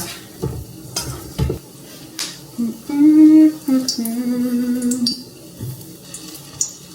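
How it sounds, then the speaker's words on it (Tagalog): Soft sizzling with clinks of a utensil stirring in a pan, broken by brief louder scrapes and a short hissing burst. "Ito lang muna yung prito ko guys."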